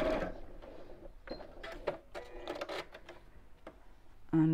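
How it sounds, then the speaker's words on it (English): A sewing machine stitches across fabric ends in short, quiet, uneven bursts of rapid mechanical whirring and ticking, with small handling sounds between the runs. "Just sew over those ends."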